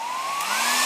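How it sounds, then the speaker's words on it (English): A hair dryer runs close by with a loud, steady blowing hiss and a rising motor whine as it spins up to speed. "the hairdryer will work."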